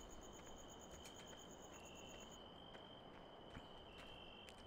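Crickets chirp steadily in a quiet, faint outdoor ambience in Farming Simulator 17, a thin high trill continuing throughout with occasional soft clicks.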